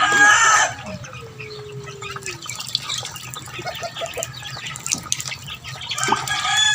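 Chickens cluck and call around a yard, with a rooster's crow at the start and end, a stretched call in between, and dripping water and faint speech in the background.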